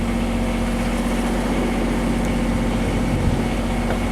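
A boat engine motors steadily at low speed, about 3.5 to 4 knots, giving a constant, even low drone and hum throughout with no variation and no voices.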